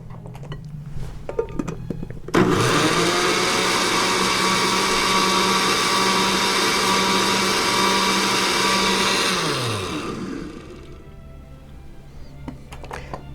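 A high-powered kitchen blender whirs loudly as it blends soaked almonds and water into almond milk, starting abruptly with a steady roaring drone for about seven seconds before winding down to a stop.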